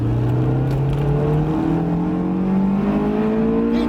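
Honda S2000 AP2 engine revving hard through the gears, its pitch climbing steadily as VTEC engages at high rpm; a loud, continuous close-up engine note with no talk.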